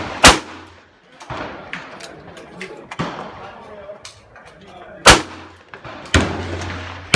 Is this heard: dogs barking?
no